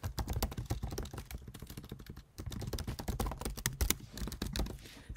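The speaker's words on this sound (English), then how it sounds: "And I can type out a whole message" Someone types a message on a computer keyboard in a dense, fast stream of clattering keystrokes that barely pauses, with no voices.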